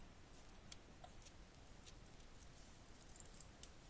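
Scissors snip off excess material for a miniature cat cafe garden room box, with a series of small, close, crisp cuts in an irregular rhythm over quiet background hiss.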